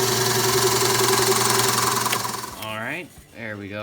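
A drill fitted with a Forstner bit bores through a piece of wood while a slingshot is built, a loud steady motor whine that winds down near the end before a voice starts talking.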